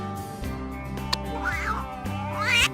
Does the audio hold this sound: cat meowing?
yes